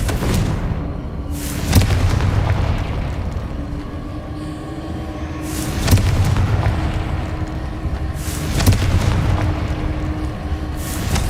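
Fire-spell explosions in Hogwarts Legacy go off one after another, each a loud booming blast with a rumbling tail, spaced a few seconds apart over a constant low background.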